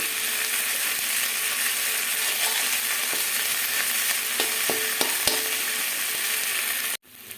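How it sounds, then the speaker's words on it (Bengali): Ginger paste frying in hot oil while being stirred, a loud steady sizzle with a few sharp scraping clicks of the spatula, then an abrupt cut near the end. "এরপরে এর মধ্যে দিয়ে দেবো আদা বাটা ভালো করে নাড়িয়ে নেবো"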